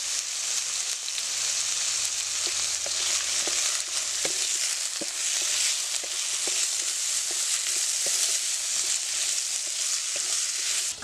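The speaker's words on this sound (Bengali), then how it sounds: "আলুটা আমার একটু লাল লাল করে ভাজতে হবে" Potatoes frying in a pan with salt and turmeric powder, a steady close sizzle throughout with scattered crackles and pops, no voices.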